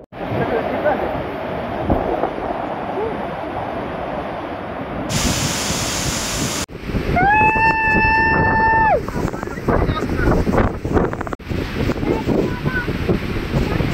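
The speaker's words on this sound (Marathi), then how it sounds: "तर वॉटरफॉल कसा आहे ते तुम्ही बघा आता" Kelvali waterfall in Satara roars as a constant broad rush of falling water with wind buffeting, a brief sharper hiss midway and a person's voice heard partway through.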